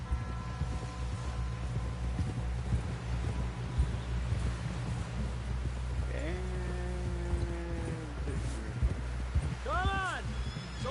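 Horse hooves clip-clopping along in Red Dead Redemption 2, a steady rhythmic trot under wind and rustling, with voices talking over it.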